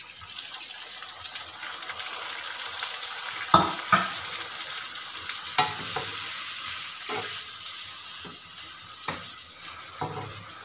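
Soy sauce poured into pork humba frying in a pan, a steady close sizzle with a few sharp splashes and stirring knocks spaced through it, no talk.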